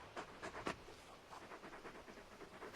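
Torgal, the big dog from Final Fantasy XVI, panting quietly in quick rhythmic breaths close by, with no other sound around it.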